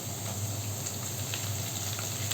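Ginger, green chilli and curry leaves fry in a pan for Kerala-style garlic pickle, giving a steady, soft sizzle with faint stirring throughout, quiet and close, with no voices.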